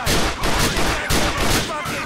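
Gunshots fire in the video game GTA 4: The Lost and Damned as a few loud, sharp bursts spaced about a second apart, close and punchy, with some background game sound mixed in.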